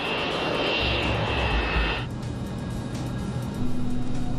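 Boeing 727 jet engines idling at the runway threshold before takeoff, a loud, steady whining roar heard from the cockpit, with a high hiss that drops away midway and the rumble continuing.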